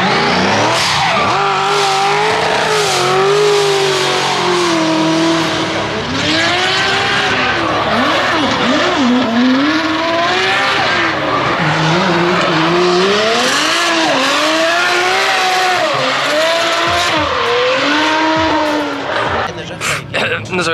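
A BMW drift car with a Kevlar body and a twin-turbo N54 engine from a 335 revs hard while its tires skid and squeal continuously, loud and close at a drift track, with engine pitch rising and falling throughout.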